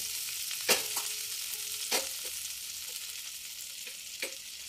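Butter sizzles steadily in a hot kadhai, a constant bright hiss with a few scraping stirs, close and alone.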